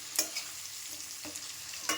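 Potatoes and onions fry in a pan, a steady soft sizzle broken by three or four sharp stirring scrapes, close and alone with no voices.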